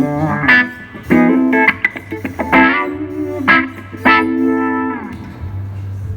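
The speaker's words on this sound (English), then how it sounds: "And the wah sounds like this for anyone not familiar." Electric guitar through a Crybaby 535Q wah pedal, loud funky phrases with the tone sweeping open and shut on each note, a sustained low note droning beneath the choppy rhythm.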